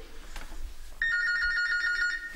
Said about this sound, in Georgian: ტელეფონი რეკავს.